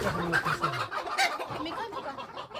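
Chickens cluck nearby in short, uneven bursts, with faint voices in the background.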